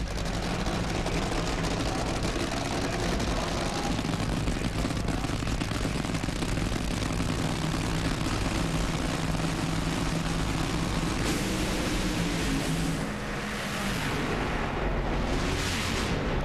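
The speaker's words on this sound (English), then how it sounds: "Jack Beckman puts the Mopar into the final, a 433, 290 mile an hour pass" A Mopar nitro funny car makes a 290 mph drag racing pass, a continuous heavy engine roar filling the whole stretch at high volume, blended with crowd and track ambience, no speech heard.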